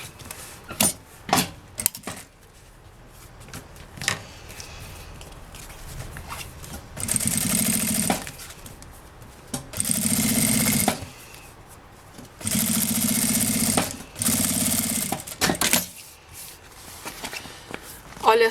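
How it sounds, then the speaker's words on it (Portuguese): A sewing machine stitches a seam on a pouch with a clear window, running in four short bursts of fast, close, buzzing chatter separated by pauses with handling noises and a voice talking. "E aí eu vou passar a costurinha aqui pra rebater"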